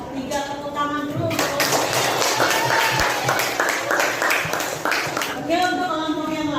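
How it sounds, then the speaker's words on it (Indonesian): A high-school class in Indonesia applauds group 3 with a burst of steady clapping from many students, and a teacher's voice comes before and after it. "tepuk tangan dulu"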